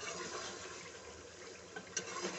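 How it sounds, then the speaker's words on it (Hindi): About two glasses of water pouring and splashing into a pot of beef qorma, a steady liquid rush with a couple of small clinks toward the end. "अब मैं इसके अंदर तकरीबन 2 गिलास पानी ऐड करके"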